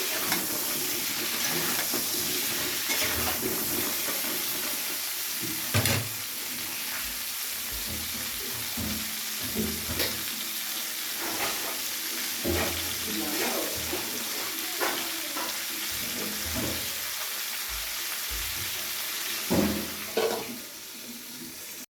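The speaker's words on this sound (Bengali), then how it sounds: "আর একটু ঢাকনা চাপা দিয়ে কিন্তু পটলটাকে ভেজে নিতে হবে, গ্যাসের আঁচটাকে লোতে রেখে।" Pointed gourd (potol) frying in a covered pan on low gas heat, giving a soft continuous sizzle with occasional clinks and knocks, while a voice speaks intermittently over it.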